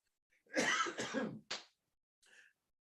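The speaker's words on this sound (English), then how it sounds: "Why am I coughing like this?" A couple of harsh, close coughs in quick succession, followed by a shorter cough and a faint throat clearing after a pause.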